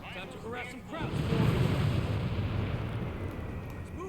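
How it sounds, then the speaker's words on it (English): A deep, rolling artillery explosion rumble in Company of Heroes 3 swells and lingers for several seconds, preceded by brief speech. "I hear explosions."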